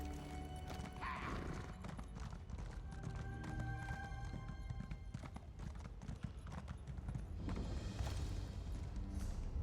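Rhythmic hoofbeats of a galloping horse in the video game The Elder Scrolls Online: Greymoor pound steadily over a dense, loud game soundscape, with a brief whinny and no talking.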